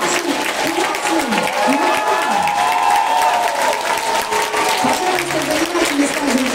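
Loud audience applause for primary school classes at an end-of-year school ceremony in Anadyr, a continuous dense clapping from a crowd with a few cheers and voices rising through it.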